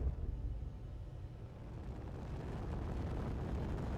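Missiles blowing up in the space-building game Space Engineers, a deep rumbling blast that swells and rolls on as a low, sustained roar, fairly loud and alone.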